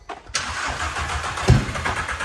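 A V8 car engine cranks briefly and fires, then settles into a loud, steady idle with a small surge partway through, recorded nearby outdoors.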